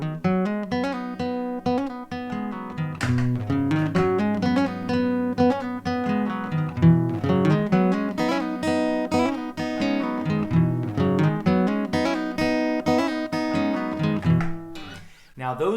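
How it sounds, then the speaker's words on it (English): Two acoustic guitar licks played together in harmony, a steady run of bright plucked notes interweaving at close range for about fifteen seconds before fading out. "the guitar harmony comes when you put those two licks together"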